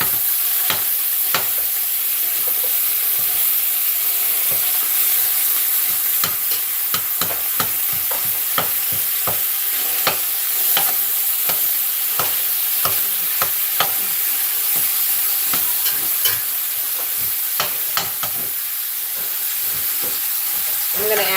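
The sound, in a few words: ground beef and yellow onion cooking in a pan for chili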